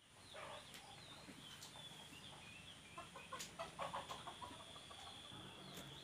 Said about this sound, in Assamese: আৰু ভিতৰত আছে মুৰ্গীবিলাক।